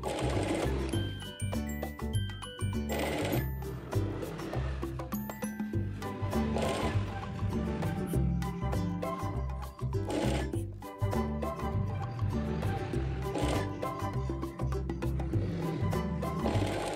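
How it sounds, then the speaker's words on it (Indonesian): Sewing machine running steadily as it stitches fabric for a double-layered scrunchie, a close, continuous rhythmic mechanical whir with rapid needle clatter and brief pauses. "Satukan kain dengan dijahit seperti ini."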